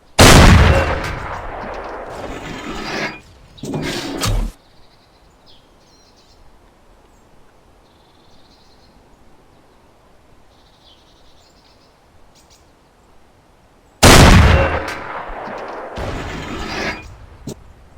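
A tank main gun fires twice in the ArmA IFA3 mod, each shot a loud, close boom with a long rumbling tail. The shots are separated by a stretch of quiet ambience with faint bird chirps.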